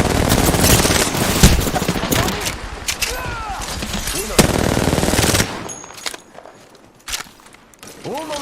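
Rapid automatic gunfire and gunshots in the Apex Legends video game, loud and dense bursts through most of the clip, easing into sparser shots near the end, with footsteps mixed in.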